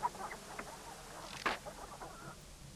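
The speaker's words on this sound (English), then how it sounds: "I don't know what to do with these chickens." Chickens in the King's Quest III remake cluck in scattered short bursts, with one louder squawk midway, set against a quiet ambient game background.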